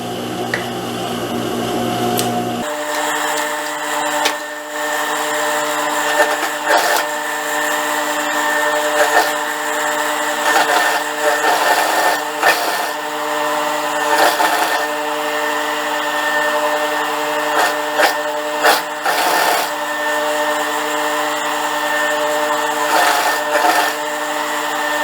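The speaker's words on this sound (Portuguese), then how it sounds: "Agora eu vou só virar aqui o elástico, dobrando aqui pra dentro e passar uma costura rebatendo." A sewing machine topstitching folded elastic on a dress runs in a steady mechanical whir with a few short pauses and starts, close and fairly loud, after a brief opening noise.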